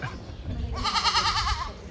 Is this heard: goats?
yes